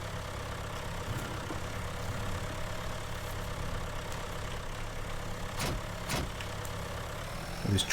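A tractor engine idles steadily at close range on a farm, a low continuous rumble with a couple of brief clanks near the end and no talking.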